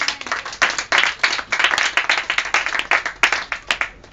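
Members of a church congregation clap and applaud together, a dense, lively burst of many hands nearby that keeps a rough rhythm for the whole stretch.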